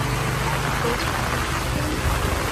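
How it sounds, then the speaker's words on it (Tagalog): Heavy rain pours down in a loud, dense and continuous roar, with voices faintly present beneath the downpour. "Sobrang ulan po."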